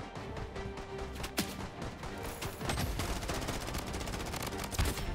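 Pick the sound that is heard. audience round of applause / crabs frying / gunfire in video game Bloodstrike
gunfire in video game Bloodstrike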